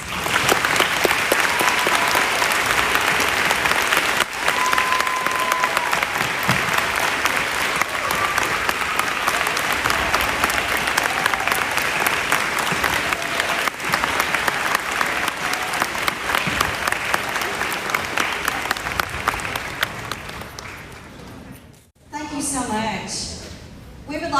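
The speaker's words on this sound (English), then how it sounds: "If you will please stand so that we can honor you with a round of applause." In a middle school gym during a Veterans Day program, an audience gives veterans a long, sustained round of applause that fills the room for about twenty seconds, then fades before a voice begins speaking.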